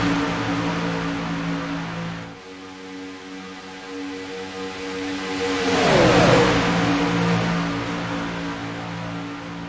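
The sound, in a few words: race cars driving around the track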